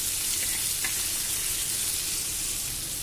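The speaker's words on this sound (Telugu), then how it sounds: "ఇలా చేపల ఫ్రై కూడా చేస్తున్నాను కదా" Fish fries in hot oil in a pan, giving a loud, dense and continuous sizzle with a faint stir or two near the start.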